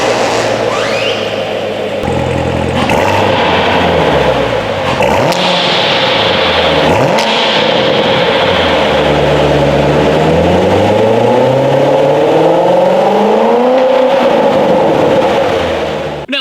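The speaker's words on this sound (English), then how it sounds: "So as always, here is that exhaust clip." A 2017 Chevrolet Corvette Grand Sport V8 with the performance exhaust is revved repeatedly, loud and close, the engine pitch climbing and falling in several sweeps before settling into long rising and falling revs.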